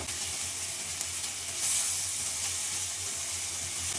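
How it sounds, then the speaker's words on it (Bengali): Boiled chicken fries in a pan with garlic, chili, cumin, coriander, ginger and turmeric paste, producing a steady, soft hiss of sizzling oil that swells briefly midway, with no voices. "চিকেন এটা সিদ্ধ করে এর মধ্যে দিয়ে দিলাম ফ্রাই"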